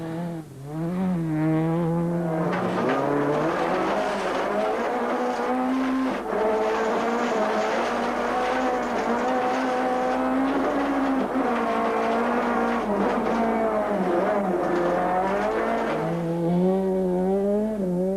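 A7-class race cars, including a Polo, race on track at the 2006 Tour Natal, with loud, continuous engine whine rising and falling through gear changes as they pass close by.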